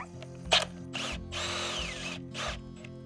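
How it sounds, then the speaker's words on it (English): A power drill bores into an existing wooden post at an off-grid A-frame cabin, with several short whirring bursts up close and brief pauses between them. "So the first thing we're gonna do is drill into the existing post."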